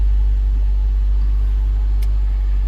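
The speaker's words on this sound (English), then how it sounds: "give it a little test start and make sure everything's hooked up right" A 2016 Nissan Versa Note SV engine runs just after a test start following a battery replacement, a loud, steady low rumble heard close with no talking.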